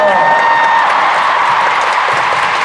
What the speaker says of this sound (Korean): 이렇게 고생한 멤버들을 위해서 박수 한번 쳐주세요